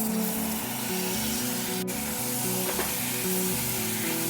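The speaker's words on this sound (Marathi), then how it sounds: "वाल ॲड केल्यावर ते देखील या वाटणाबरोबर छान परतून घ्यायचे" Shelled val beans frying in oil-releasing masala paste for a Konkani-style curry, with a steady, continuous sizzle throughout and a faint clink of a utensil partway through.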